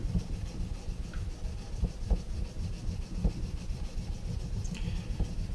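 An axe blade with a flat grind is drawn over a flat bench stone, a steady close rasping rub with faint periodic strokes, continuous and alone without talk.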